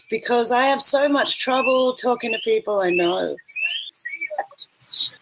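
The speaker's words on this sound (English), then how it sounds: "I can hear the birds in the background" Small birds chirp and tweet in the background, with bright short calls that come through mostly after a person stops talking in the foreground.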